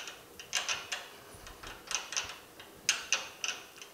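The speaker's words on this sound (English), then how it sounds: "we just got to get the wrench out" Wrench being worked loose from a bolt on a 1965 Chevrolet Malibu SS during a radiator and electric fan install: a quick series of sharp metallic clicks and clacks, close and fairly faint, with no voices.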